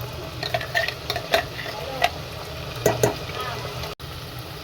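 A ground paste of roasted dry and fresh coconut with onion, for Malvani-style chicken curry, stirred into a sizzling pan: scraping spoon strokes and bursts of hissing over a steady fry, close and fairly loud.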